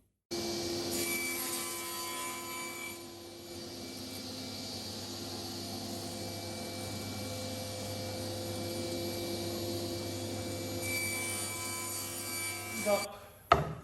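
A power saw cuts hardwood timber pieces for a cajon, a steady loud whining drone held for about ten seconds with a brief dip near the start, ending in a few sharp knocks.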